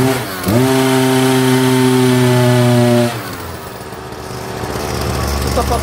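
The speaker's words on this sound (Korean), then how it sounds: "다음에는 초크를 열림 쪽으로 다시 돌리신 다음 두 번째 시동을 거시면 되겠습니다." A Husqvarna 327HE3 petrol hedge trimmer engine fires up and runs at a loud, steady high buzz for a few seconds, then drops to a rougher, quieter idle.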